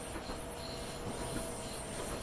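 A train passing close by a Class 465 cab on the London–Faversham line, a continuous broad roar of wheels and rushing air with faint squeal, steady throughout.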